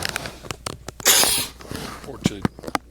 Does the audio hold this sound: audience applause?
no